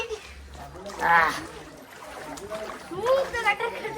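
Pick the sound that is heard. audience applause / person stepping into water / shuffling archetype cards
person stepping into water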